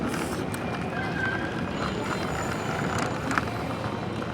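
A double-decker bus drives along a risky road, giving a steady, dense rumble of engine and road noise with no breaks and a faint tick or two near the end.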